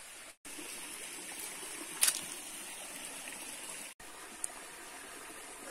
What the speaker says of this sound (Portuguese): Ao lado da jaqueira tá a cachoeira, tá vendo?